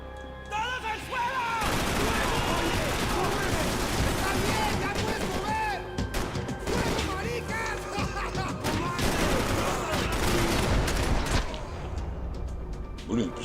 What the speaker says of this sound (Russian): Блин, пистолет такой мощный.